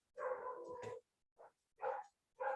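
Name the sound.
dogs barking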